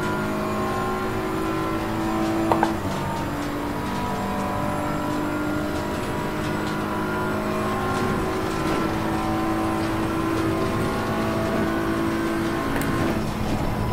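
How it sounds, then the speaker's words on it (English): A race car engine drones steadily at night in the racing game Assetto Corsa Competizione, with the pitch shifting as the car downshifts and a brief faint pop near the start. No one speaks. "I like the blow off valve when you downshift."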